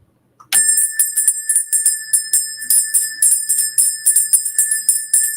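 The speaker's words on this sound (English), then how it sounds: "oh, bell." A bell rung repeatedly during a cleansing ritual, starting abruptly after silence and continuing as rapid, bright, close ringing strokes in an uneven rhythm, with no voices.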